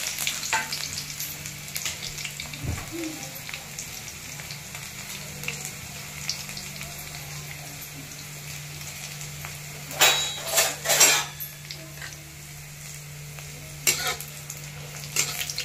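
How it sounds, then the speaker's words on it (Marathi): Garlic, onion and curry leaves fry in a pan with a steady low sizzle, broken by a few brief bursts of utensil stirring and scraping at close range. "त्यानंतर 4-5 लसूण कांदे, बरोबर कढीपत्ता टाकायचा।"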